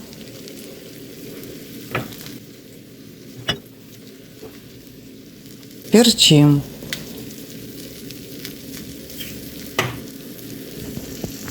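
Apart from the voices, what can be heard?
frying food in a pan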